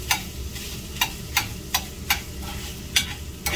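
Ground beef and sausage frying in a cast iron skillet, a constant close sizzle broken by a regular series of sharp scraping clicks as the meat is stirred and turned.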